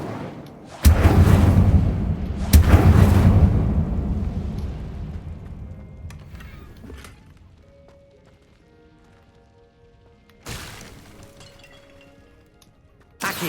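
Bursts of fiery spell blasts from the Incendio spell in Hogwarts Legacy, two loud booming whooshes early that roar and fade slowly, then quieter magical tones and another sharp burst near the end.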